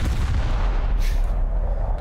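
A dense, rumbling roar of heavy cannon fire from ships in War Thunder with a sharp blast near the middle, continuous and loud.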